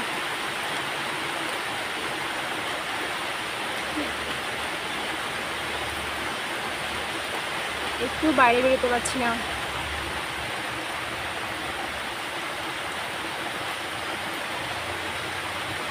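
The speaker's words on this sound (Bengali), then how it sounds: "দেখো কি বৃষ্টি শুরু হয়েছে।" Rain falls steadily outside, a constant even wash of noise heard from indoors, with a person briefly speaking partway through.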